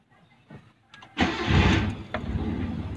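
A car engine cold-starts with a brief cranking burst that catches into a loud, steady idle around 500 RPM, close by with no talk, a few faint clicks before it turns over.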